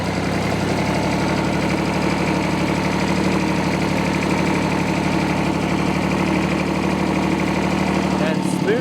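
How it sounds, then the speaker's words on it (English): A 1957 Porsche P133 diesel tractor cruises down a sandy farm trail in fifth gear, its engine giving a steady, close, unbroken chugging drone with a faint rattle throughout. "Just cruising down the road on the old sandy farm trail in our Porsche P133 tractor, 1957."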